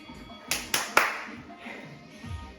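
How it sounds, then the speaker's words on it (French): A person claps their hands at the end of a no-jump HIIT workout: three sharp claps in quick succession, fairly close, with a voice murmuring around them. "Tu peux déjà t'applaudir."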